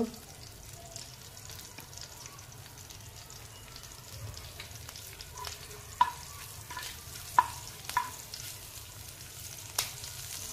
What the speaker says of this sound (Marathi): याच्यात आपण फोडणी देणार आहोत, म्हणजे तडका देणार आहोत। मोहरी घातलेली आहे, कढीपत्त्याची 8 ते 10 पानं घातलेली आहेत, हिंग